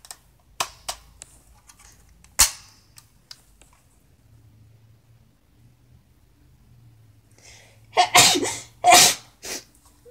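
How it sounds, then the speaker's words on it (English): Scattered light clicks and taps, then a loud, close sneeze burst near the end followed by a second one, otherwise quiet. "Sorry guys, I had a sneeze"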